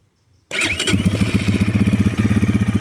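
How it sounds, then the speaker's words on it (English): Silence gives way to a 2026 GPX 300 EFI air-cooled, fuel-injected motorcycle engine starting at the push of a button and settling into a close, steady, thumping idle. "And then literally push the button."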